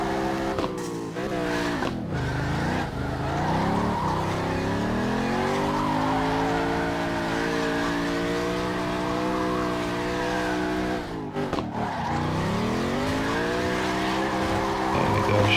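Ken Block's Fox Body concept drift car in CarX Drift Racing 2, its engine wailing with rising and falling revs as the tires skid, loud and continuous throughout with a brief lull near the start and another around eleven seconds.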